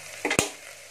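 Pav bhaji vegetables frying in a pan, a soft background sizzle broken by two quick stirring scrapes close by.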